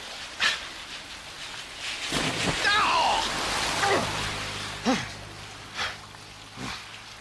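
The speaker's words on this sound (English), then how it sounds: "The rain leaves so much surface water that Arthur is drenched in turn by several cars" Rain-soaked road in a radio drama: steady rain with several splashes as cars drive through surface water, the swishes coming in turn amid short vocal exclamations and groans.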